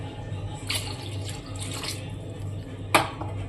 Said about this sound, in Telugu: ఇంకా కొంచెం నీళ్ళు వేసుకుందాం.